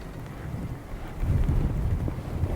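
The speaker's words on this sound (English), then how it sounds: "The wind is way stronger than it was predicted to be" Strong wind buffets the microphone while fishing for bass on a marsh during a neap tide, a steady low rumble that swells louder halfway through and stays heavy, with no talking.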